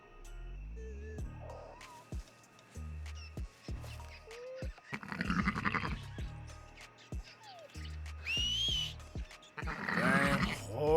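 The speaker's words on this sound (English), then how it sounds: "if you come across a group of sleeping livestock, you can wake them by whistling" Sheep or goats bleating in Red Dead Redemption 2, several woken livestock calling one after another in wavering, nasal bleats at moderate distance, over soft hoof thumps and outdoor ambience, with no talk.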